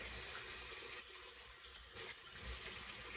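Warm tap water runs steadily into a sink for a face rinse after shaving, a continuous, fairly quiet rushing stream with slight shifts in tone as hands move through the flow.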